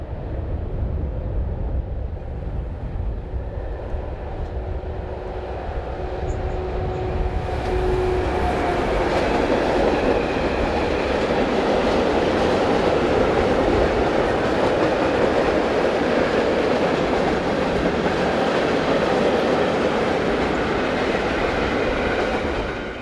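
A train passes on a railway line near Vienna, where freight trains run towards Hungary and Bratislava, a steady, loud broadband rumble of wheels on rails that swells and holds for over twenty seconds, with no voices.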